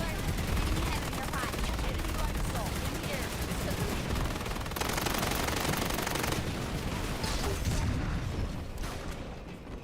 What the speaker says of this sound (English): some shooting.